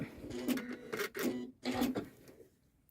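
A Janome sewing machine stitching embroidery, three loud whirring bursts with brief pauses between them, close and mechanical, then fading to quiet.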